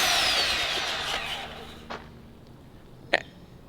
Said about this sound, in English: I think of Xyla Foxlin turning on the loudest power tool she can